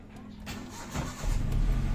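A car engine cranking and catching after a loose battery terminal is fixed, a rough low rumble that swells into a higher idle near the end, recorded close outdoors.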